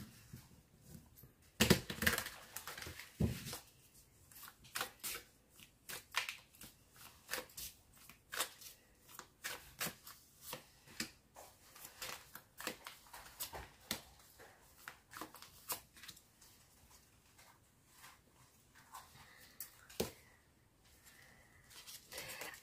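Tarot cards being shuffled for a reading, a long stretch of soft riffling and flicking card sounds with occasional louder snaps, close by, with no talking.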